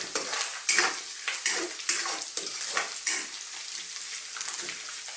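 Ginger and garlic sauté in a hot pan for a pork and taro-leaf coconut stew. The sizzle is steady and close, broken by repeated stirring scrapes and no talk.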